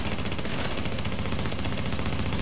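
Sustained automatic gunfire from a heavy-recoil weapon in the video game The Division, a dense, loud, continuous rattle of rapid shots filling the whole stretch with no talk over it.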